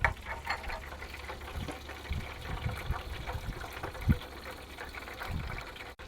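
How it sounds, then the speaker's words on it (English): A shaken mojito is poured from a shaker into a cup, giving a faint, continuous trickle and splash with small clinks and bumps scattered throughout. "Alright, now we're going to pour"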